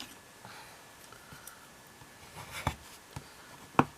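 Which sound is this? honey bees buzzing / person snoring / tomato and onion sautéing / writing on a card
writing on a card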